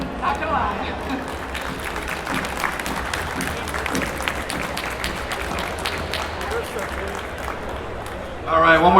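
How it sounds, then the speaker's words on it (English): Audience applause for speaker Mary Lynn Mathre after her talk, a dense, steady wash of clapping across a full room, holding even throughout and swelling slightly louder at the very end. "big round of applause, ladies and gentlemen, for Mary Lynn Mathre"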